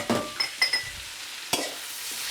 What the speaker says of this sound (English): Sizzling away, baby, sizzling away.